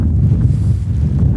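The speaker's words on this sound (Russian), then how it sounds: "Ветер такой караул, что прям раздувает." Heavy wind buffeting a microphone on a hunt in the Sayan Mountains, a steady low roaring rumble throughout with no other sounds.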